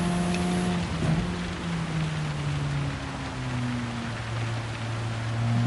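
Steady rain hisses during a car race at Red Bull Ring in Gran Turismo Sport, a constant wash of noise with engine tones droning and shifting beneath it.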